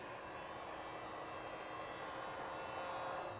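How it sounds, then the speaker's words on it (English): Steady whirring blast of a heat gun warming double-sided tape on a car body, a constant broadband hiss with no talk over it. "So if you got a heat gun, just like this one here, that's going to do the job."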